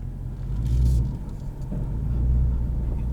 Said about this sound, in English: Today we'll be driving it in track mode, which with the valved exhaust, it's loud